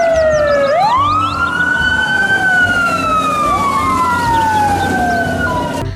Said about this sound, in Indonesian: lihat ini teman-teman, ada truk pemadam kebakaran.